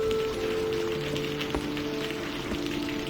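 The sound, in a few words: heavy rain during a storm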